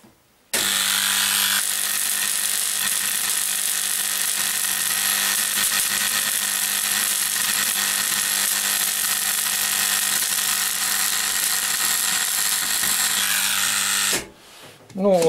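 Electro-spark hardening of a steel needle file with a capacitor spark unit: a loud, continuous buzzing crackle of sparks running steadily for about fourteen seconds, starting and stopping abruptly.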